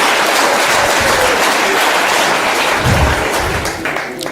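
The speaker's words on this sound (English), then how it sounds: "Give them a round of applause as well." Audience applause at an outdoor bench unveiling in Khayelitsha, Cape Town, honouring Harry Belafonte: a dense, steady wash of many hands clapping that holds for several seconds and eases slightly toward the end.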